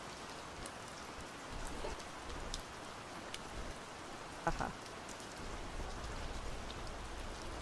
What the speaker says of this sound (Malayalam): ആയി വരുന്നുണ്ട്, നല്ല മഴ.